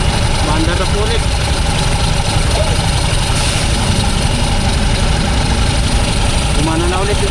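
A motorcycle engine idles steadily and loudly throughout after being restarted following a roadside breakdown, a continuous low rumble with a faint voice speaking briefly over it.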